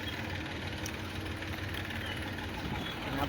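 A Mahindra Bolero's engine runs with a steady mid-pitched drone, close and continuous, joined by faint voices in the background.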